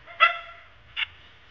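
A chained dog near a small room on a hiking trail in the Margalla Hills, Islamabad, lets out two sharp barks about a second apart, the first louder, against quiet outdoor background.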